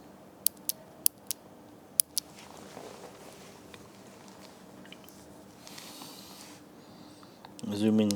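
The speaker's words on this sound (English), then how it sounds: "you can see when you press it halfway, it goes click." A gaming keyboard's switches click sharply when pressed, a handful of crisp, fairly close clicks spaced irregularly in the first seconds, followed by quieter handling noise and a brief voice near the end.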